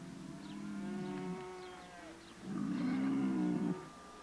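Prize bulls at an artificial breeding center give deep, drawn-out moos, one long low call followed by a louder second bellow, close by and without talk.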